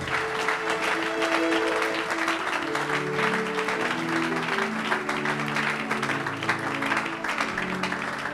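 A church congregation applauding Jesus during a worship service, a continuous dense clapping from a large crowd, loud and sustained, with a sung or hummed melody drifting beneath it.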